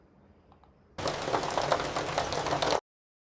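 Rain generated by Google Veo 3 AI video, a dense, even hiss of falling drops that starts abruptly, holds steady for about two seconds, then cuts off to silence.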